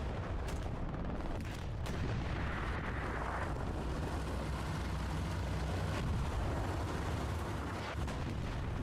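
Continuous rumbling explosions and distant artillery booms from the Hell Let Loose World War II shooter, with tank combat nearby, form a dense, steady battlefield roar with a few sharper blasts and no speech.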